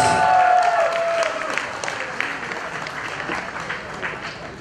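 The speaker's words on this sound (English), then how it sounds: "Ladies and gentlemen, please give them a big round of applause" Wedding guests applaud a father-daughter dance at a Malayalam community celebration, the dense clapping loudest at first and gradually thinning, with a brief tonal sound near the start.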